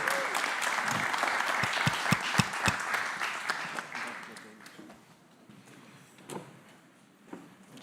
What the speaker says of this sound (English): I want you all to stand up and welcome someone with us, like in a really, really big round of applause